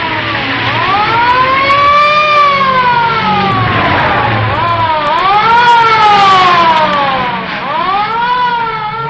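A 1940s police car siren wails loud and close in long rising and falling sweeps, repeating over a low engine rumble.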